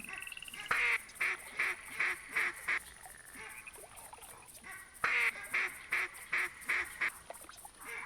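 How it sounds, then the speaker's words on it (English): Video-game ducks, including mallards, black ducks and gadwalls, quack in two rhythmic runs of loud, evenly spaced calls, separated by a short lull, over a faint background hiss. "I'm hearing some mallards, black ducks, and gadwills"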